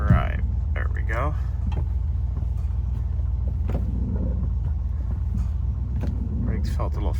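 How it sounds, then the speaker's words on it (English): A classic car with an old Borg Warner automatic transmission idles and pulls away, a steady low engine rumble throughout with occasional clicks and knocks, while a person talks over it. "let me get the bonnet down and we'll drive out"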